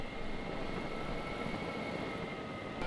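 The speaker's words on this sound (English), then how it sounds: "like doing a dive bomb and then pulling up at the last second." In a mouse-steered video game, a stunt plane dive bombs and pulls up at the last second, its engine a steady, dense, loud roar that holds without a break.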